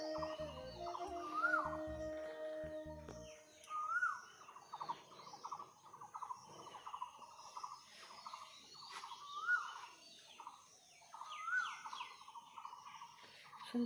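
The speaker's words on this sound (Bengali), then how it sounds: "স্তব্ধ হয়ে শোনো, কত সুন্দর চারিদিকে পাখির আওয়াজ" Early-morning birds call in the open, with one voice repeating a warbling call again and again at a moderate distance over quiet surroundings.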